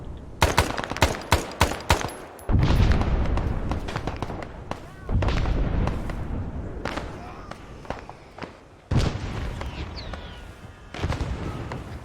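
Bursts of gunfire and heavy explosions fill a military video game battle, with sharp rapid shots early on and then repeated loud booming blasts, some landing close, all under radio-style voice chatter from players.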